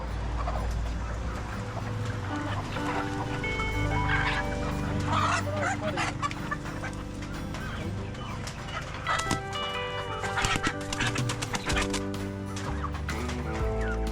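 Desi chickens at a market in Netarhat, busy fowl clucking and squawking mixed with honking calls and a dense crowd-like din, fairly loud and continuous.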